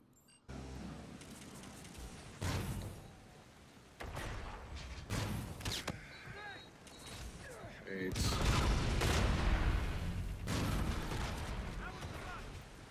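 Gunfire from a weapon in Call of Duty: Infinite Warfare, bursts of rapid shots and booming blasts in bunches over a dense battle din, loud and close, with gaps between volleys.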